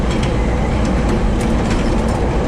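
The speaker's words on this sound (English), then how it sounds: "This is a Pink Line train to 54th and Cermak" Steady, loud rumble of a Chicago L 5000 Series elevated train running along rails around the Loop, with continuous low roar and faint rhythmic clatter throughout, no voices.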